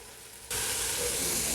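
After a quieter start, a loud, steady sizzle bursts up as tomato sauce hits hot spices in a pan for tomato rice, then keeps frying evenly.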